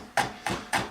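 A chef's knife cuts through rolled herbs into chiffonade on a cutting board, three crisp evenly spaced chops close by, each a sharp thud against the board, with no talking.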